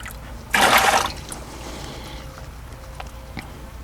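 A water and bleach mixture pours into an RV freshwater tank in a brief, loud rushing gush lasting about half a second, followed by faint trickles and scattered drips.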